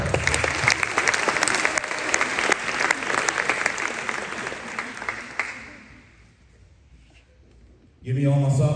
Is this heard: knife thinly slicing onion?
no